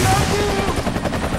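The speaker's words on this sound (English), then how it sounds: "Gunfire." Gunfire in an online multiplayer video game, a brief rattling burst of shots lasting just over a second.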